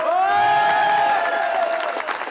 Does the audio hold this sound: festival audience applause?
yes